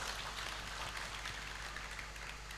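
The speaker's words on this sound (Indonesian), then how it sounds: "Tepuk tangan untuk lulusan 2006." Audience applause for the graduates at a vocational school farewell ceremony held in a hotel, a dense steady wash of clapping lasting the whole stretch at moderate level.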